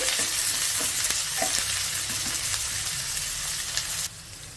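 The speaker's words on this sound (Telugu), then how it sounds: "ఉల్లిపాయ ముక్కల్ని ఒక రెండు నిమిషాలు ఫ్రై చేసేసుకోవాలి" Chopped onions and curry leaves sizzle in a hot pan with a constant loud frying hiss, and a few soft stirring clinks come through close up.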